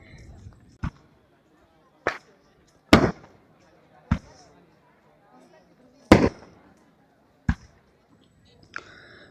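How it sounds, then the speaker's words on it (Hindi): Firecrackers burst at Kedarnath temple during Diwali as sharp, loud, separate bangs that come every second or two, close by, with faint crowd murmur between them. "पटाखे खूब जला रहे थे"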